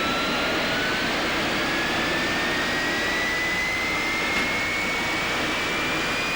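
Jet engine running at close range, a steady loud broadband roar with a thin high whine slowly climbing in pitch, continuous and unbroken with no voices.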